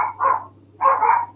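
Dogs barking indoors in a home, two short bursts of loud, close barks separated by a brief pause, with a low steady hum beneath.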